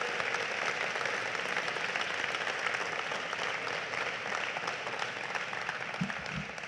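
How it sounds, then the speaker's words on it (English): A dinner crowd applauds honoured guests at an anniversary dinner, a dense, sustained wash of many hands clapping that fills the room evenly from start to finish. "Give them all a big round of applause."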